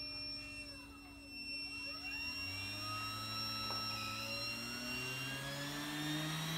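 A Shapeoko 3 CNC machine's motor, driven by a 48-volt power supply, runs at maximum power about a foot away, giving a steady whine with gliding pitch sweeps and a low, rising hum.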